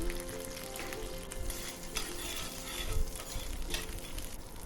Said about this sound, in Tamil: இப்போ ஒரு பாத்திரத்தில் நெய் சேர்த்துட்டு தேங்காவை பொடி பொடியாக கட் பண்ணி வச்சுருக்கேன், அதை சேர்த்துக்கலாம்